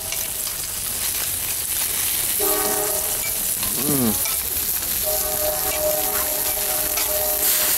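Oysters cooking in butter sauce on a grill at an outdoor oyster festival, a loud, steady sizzle and hiss with tonal crowd noise and brief whistling sounds in the background.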